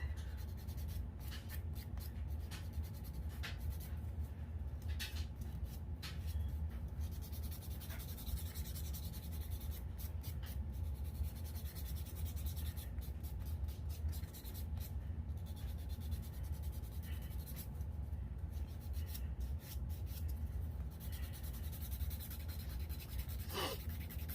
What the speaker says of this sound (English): I like to use my 100-180 grit file to just make sure everything is smooth.